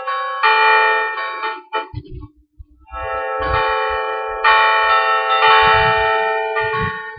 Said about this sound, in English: Bells rang out in celebration all over Midland, Texas.